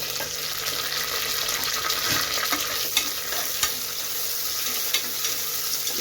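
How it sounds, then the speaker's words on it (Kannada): Onions fry in a pan with curry leaves and three dried red chillies, a steady bright sizzle with occasional stirring scrapes, close and unbroken. "ಈರುಳ್ಳಿ ಎಲ್ಲ ಚೆನ್ನಾಗಿ ಫ್ರೈ ಮಾಡ್ಕೊಳ್ಳೋಣ, ಬ್ರೌನ್ ಕಲರ್ ಬರೋವರೆಗೂ"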